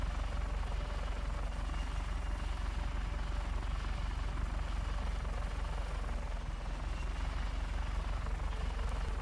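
Helicopter in a video game, a faint, steady rotor and engine drone with a low, even hum running throughout and no voices over it.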